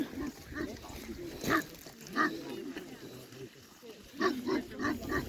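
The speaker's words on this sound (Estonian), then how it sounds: "Siin on üks lambakoer." A sheepdog on a long hiking trail in Karula, Estonia, gives a few short, grunting barks and whimpers in separate bursts, fairly close, with quiet outdoor ambience between them.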